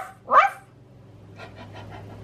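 Children imitating a dog barking in a home kitchen: one short, loud voiced "ruff" burst, then a string of softer, quicker yips and panting-like puffs trailing off.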